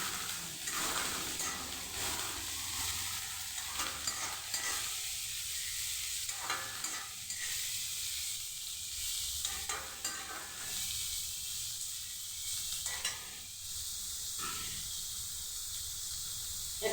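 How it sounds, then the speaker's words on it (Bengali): Vegetables fry in a pan with a bright, steady hiss, while repeated scraping strokes of a spatula stir them at an uneven pace, no voices. "এখন এই সবজিগুলো দিয়ে দেব। দিয়ে একটু ভেজে নেব।"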